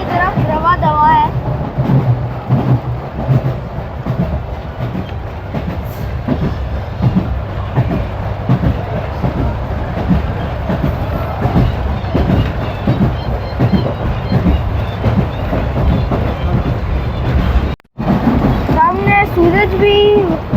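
Safari train running from Rawalpindi toward Attock, steady loud rumble of wheels on track with rhythmic clickety-clack throughout, a brief dropout near the end, and faint voices in the background.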